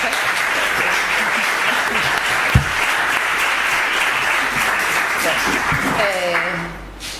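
At a public lecture on the history of telecommunications in the Canary Islands, the audience breaks into sustained applause that stays full and even before fading away at the end.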